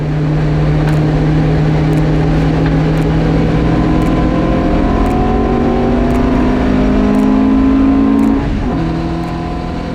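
A classic Marcos racing car with an 1800 engine drives on the Snetterton circuit, its engine droning loud and steady from onboard with rising pitch through the gears.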